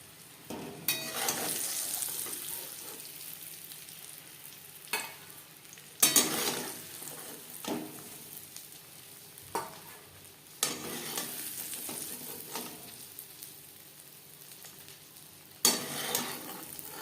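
Flour-batter-coated eggs fry in a pan for an egg curry, a steady close sizzle broken by several sharp bursts of louder spitting and stirring clatter, with no talking.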